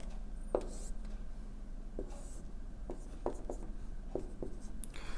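A pen scratches across paper in short strokes while a graph is sketched for a quadratic inequality, faint and close in a quiet room.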